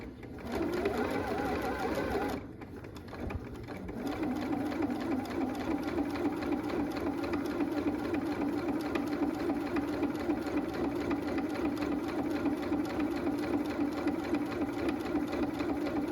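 A sewing machine runs steadily while stitching fabric in a straight seam, a continuous close mechanical whir with a short pause near the start before it resumes and holds an even rhythm.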